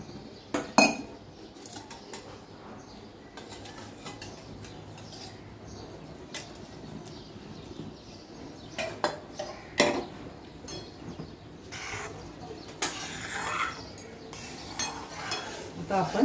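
Leftover flour mixes with water in a metal pot over a low gas flame while making pithla. Soft, intermittent scraping and clinks of a spoon against the pot repeat quietly, with a few sharper knocks.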